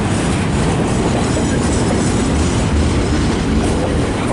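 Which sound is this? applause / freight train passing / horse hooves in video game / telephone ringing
freight train passing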